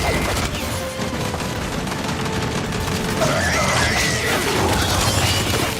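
Gunfire in Gears 5 co-op combat crackles as a dense, continuous stream of rapid shots with mechanical clatter and metallic impacts, loud and steady throughout.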